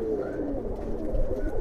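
Giribaj pigeons in a loft give low rolling coos, moderately close and continuous over a soft background hum.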